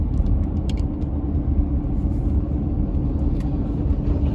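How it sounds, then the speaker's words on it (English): A steady, heavy low rumble of a freight train loaded with lumber rolling past close by, continuous throughout with faint metallic clatter on top. "I'm still trying to get the train sounds."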